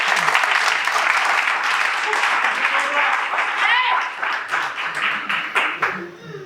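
Sustained audience applause from a crowd at a live show, dense and steady, with a few voices mixed in, thinning into scattered claps near the end.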